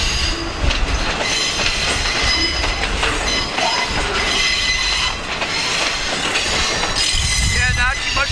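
A long freight train of over 70 cars, hauled by two SD40-2 diesel locomotives, rumbles past close by, wheels clattering and squealing on the rails in a continuous loud roar.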